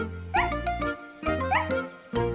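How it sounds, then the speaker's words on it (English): A cartoon dog gives three bright, happy barks spaced about a second apart, close and clear, with faint jingling between them. "She just wagged her tail and gave a couple of happy barks."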